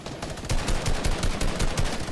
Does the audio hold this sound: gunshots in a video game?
yes